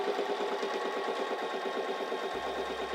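A Singer 3337 sewing machine runs a straight stitch, a steady rapid mechanical whirr with even needle pulses, close and continuous with no talking.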